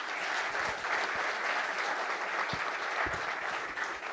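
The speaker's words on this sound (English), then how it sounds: "May I request you all to please give a round of applause for all three of them." An audience applauds panel speakers at an inaugural session in a multipurpose hall, an even, dense patter of many hands clapping, moderately distant and sustained without pause.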